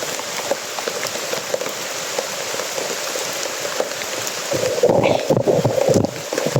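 Steady rain patters down on a surface, a continuous broadband hiss that grows heavier and more uneven near the end.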